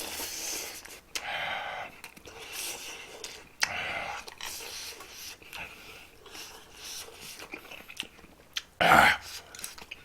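Close eating sounds from a meal of ramen with fried dumplings and kimchi: irregular chewing, slurping and biting, with one sharp louder crunch near the end and some quiet breathing between bites.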